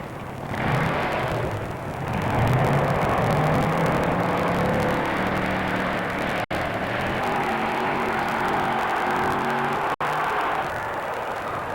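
A racing truck engine roars past at a 1985 Teays Valley event, a loud sustained drone that swells and recedes with pitch shifts, continuous for the whole stretch with brief sharp clicks and no talk.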